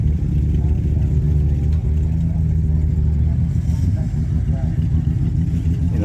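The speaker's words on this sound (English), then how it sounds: "Datsun 120Y." An original-condition Datsun 120Y at a large car rally drives close by, its steady mid-pitched engine drone holding level throughout, with crowd chatter mixed underneath.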